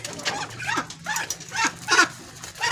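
Young ducks about two to three months old, common black ducks and Surkhab ducks, call in a run of rhythmic, nasal bursts close by, repeated about every half second.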